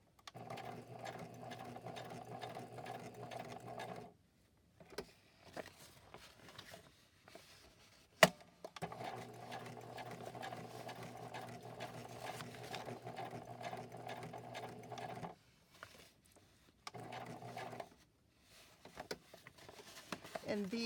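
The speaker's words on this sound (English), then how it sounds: "And let's sew that on." A sewing machine stitches a paper ticket onto a mango-themed craft project, running in steady humming bursts of several seconds with short pauses between them and one sharp click midway, close and clear.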